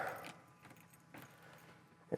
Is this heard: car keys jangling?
yes